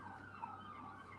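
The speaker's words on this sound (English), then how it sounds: "You see the siren in the background." A faint emergency vehicle siren wails in the distance somewhere in Los Angeles, its steady tone drifting under low background noise.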